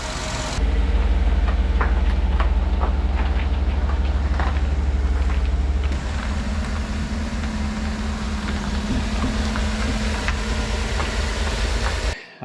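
A 2009 Chevrolet Tahoe on a road test, its engine and road noise holding a loud, steady rumble throughout with a faint whine, the tone shifting slightly partway through, no talk.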